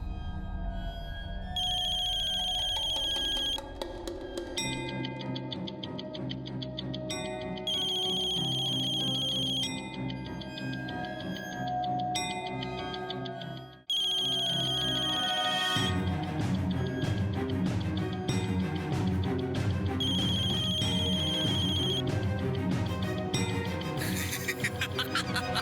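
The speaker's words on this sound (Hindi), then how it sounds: "फोन बज रहा है।" A phone rings in several repeated electronic trills, clear and prominent over a swelling, tense orchestral music bed, with a brief drop near the middle before the music surges.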